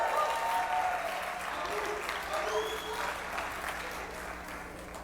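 Congregation applauding a pastor's wife during a church service, a steady, full-room clapping that holds for several seconds, with scattered cheers mixed in.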